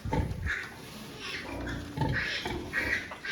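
Day-old piglets beside their sow on a farm give repeated soft grunts and squeals, close and moderately loud, in uneven bursts.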